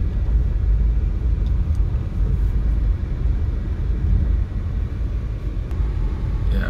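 A car drives through a residential estate community in Clarendon, Jamaica, heard from inside as a steady, loud low rumble of engine and road noise with no talking.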